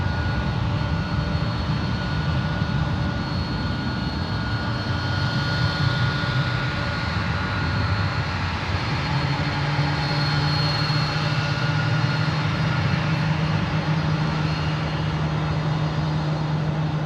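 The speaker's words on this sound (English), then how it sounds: "Engine number 1 starting up there." An airliner's number 1 jet engine spools up at San Francisco International Airport, a loud, continuous roar with a rising whine that settles into a steady tone, heard alone without talk.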